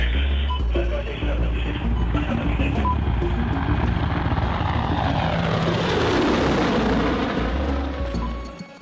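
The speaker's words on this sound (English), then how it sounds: "An Apache helicopter flies over a neighborhood in Baghdad." An Apache helicopter flies over a neighborhood in Baghdad with a loud, continuous rotor and engine roar that swells and sweeps past, a voice talking over it.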